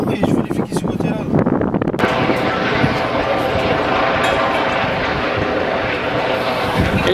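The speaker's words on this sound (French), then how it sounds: "Hélicoptère de la gendarmerie nationale." A French Gendarmerie Nationale helicopter passes overhead, a loud steady roar of rotor and engine noise filling the whole stretch, with wind buffeting and people talking underneath.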